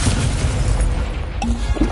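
In the Hogwarts Legacy video game, a Descendo spell slams an enemy down with a loud, booming crash and rumbling impact noise that lasts the whole moment, with no talking.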